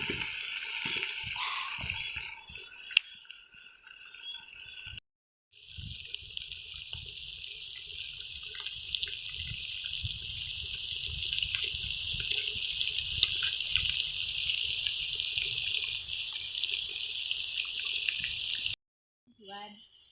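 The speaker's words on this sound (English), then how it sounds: "To add in water. This is boiled water." Boiled water from an electric jug is poured into a cooking pot of matoke over a firewood fire, a steady close splashing stream lasting over ten seconds after some handling noises, then stopping abruptly.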